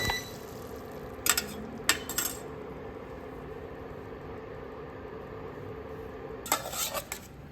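A vegan ginger-chili crispy pork stir-fry being scooped from a pan onto a plate: a few sharp clinks and scrapes of a utensil against metal and china over a quiet kitchen hum, with a final cluster of clatters.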